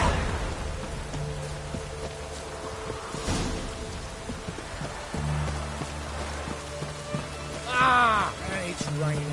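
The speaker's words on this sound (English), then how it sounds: "And it's raining again." Steady rain falling in a video game, a constant hiss of drops on surfaces under low game hums and a brief rumble, with a short creaky flourish near the end.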